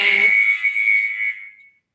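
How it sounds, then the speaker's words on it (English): An interval timer buzzer sounds during climbing training, a steady loud electronic tone that holds for over a second before fading out, with room ambience underneath. "oh, the annoying buzzer"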